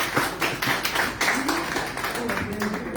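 An audience at an afternoon mediumship and clairvoyance gathering claps steadily in a dense, close patter, with voices murmuring through the clapping.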